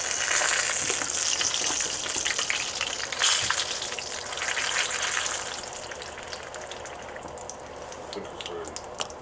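Tatar chebureky frying in hot oil give a steady, close hiss and sizzle with bubbling crackle, loudest early and easing slightly toward the end.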